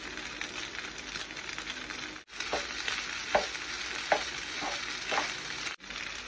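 Shrimp fried rice with black pepper is stirred and tossed in a hot pan, giving a steady close sizzle of frying with scraping stir strokes and two brief pauses.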